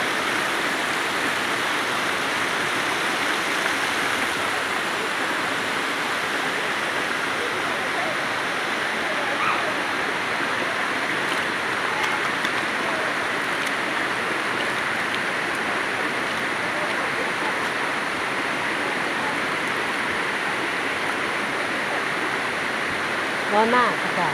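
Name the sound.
Erawan waterfall, seventh tier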